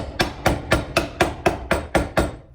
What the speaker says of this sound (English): Give it a little tap with the hammer just to make sure it's flush.